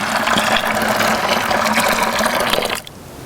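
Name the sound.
pouring hot water into a bucket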